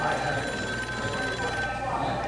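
A telephone rings in a steady, continuous electronic tone that carries through the whole clip at a fairly loud level, with no speech over it.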